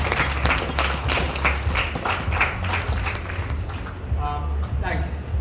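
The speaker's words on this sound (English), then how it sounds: "So big round of applause to Steve" Wedding guests applaud the groom Steve at a brother's wedding reception, a steady wash of clapping from a crowd that holds throughout at moderate volume.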